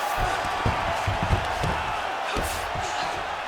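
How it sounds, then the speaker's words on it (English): Arena crowd at a UFC 307 women's bantamweight championship fight roaring with a steady, loud cheer, with a few thuds and whoops poking through. "Huge response from the crowd"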